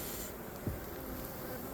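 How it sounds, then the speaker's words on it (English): A faint, steady insect buzz from a honeybee colony being removed from inside a wall in mid-December, a continuous low drone running throughout with one brief thump. "we are taking honeybee colonies out of a wall"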